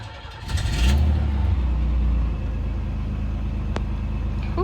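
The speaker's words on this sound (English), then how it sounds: "If this car starts" A 1987 Chevrolet Celebrity engine cranks and catches after EGR valve cleaning, firing up with a brief rev, then settling into a steady idle that carries on under faint background noise.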